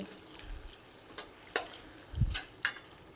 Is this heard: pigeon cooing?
no